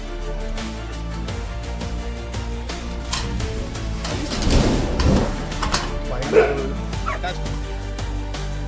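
A rescued dog, which had a heavy rope tied around its neck since puppyhood, gives short barks and whimpers close by, with people talking over and around the sounds.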